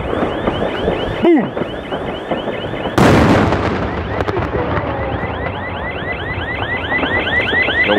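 A Polenböller firecracker gives out a shrill, warbling alarm-like whistle that sweeps repeatedly, then a loud blast hits, followed by more rapid, siren-like warbling, harsh and close.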